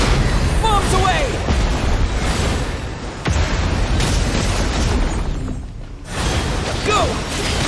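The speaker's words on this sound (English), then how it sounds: "Bombs away!" Bombs burst in a Genshin Impact battle, a dense roaring rumble of blasts and debris that runs almost continuously at high loudness, with brief voices and effects mixed in.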